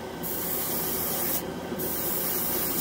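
An airbrush spraying ChromaAir model paint that comes out unevenly, a close, continuous hissing rush with slight wavering and sputtering texture across the whole stretch, without any speech.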